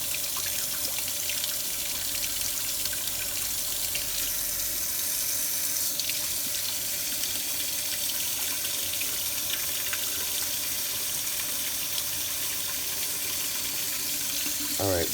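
Lukewarm tap water runs steadily into a sink, a continuous close rushing splash that stays even throughout.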